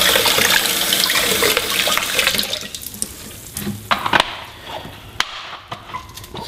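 A keg cap is rinsed under a running tap, with a loud rush of water into a sink that cuts off partway through, followed by a few small knocks and drips.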